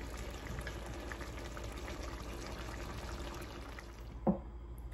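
Mustard oil poured into a cooking pan for a moong dal and winter vegetable labra: a steady, continuous rushing trickle, with a short clatter near the end.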